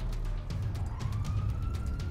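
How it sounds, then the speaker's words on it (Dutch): A police car siren in the GTA 5 video game wails with a steadily rising tone over a dense, continuous rumble of traffic and engine noise, with no talk. "Oh, daar komt ook een politieauto aan."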